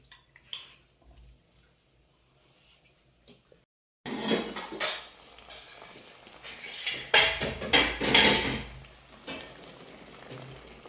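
A spoon stirs and scrapes through a pot of cooking food with shrimp, giving a run of close, uneven clinks and scrapes after a quiet opening.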